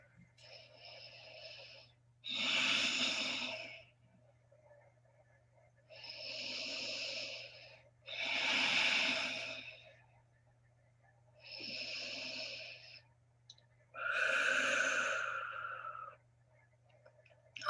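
Slow, deep breaths during a yoga forward fold come in long drawn inhales and exhales, about six in a row separated by quiet pauses, close and clear over a low steady hum.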